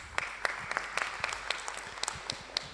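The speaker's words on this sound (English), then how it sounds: "Let's give them a big round of applause." Sparse, faint applause from a small audience at a research and innovation event, individual claps scattered in an irregular rhythm.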